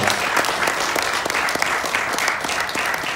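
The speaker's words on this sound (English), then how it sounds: "Can we give Dr. Annie McIntosh a round of applause?" Audience applause at an evening talk for a university biblical worldview club, thanking a guest doctor; dense, steady clapping from a small indoor crowd, fairly loud and sustained throughout with little talk.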